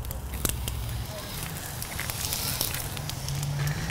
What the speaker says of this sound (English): we're going to slap this down on this grill. So I've got the grill nice and low over our coals.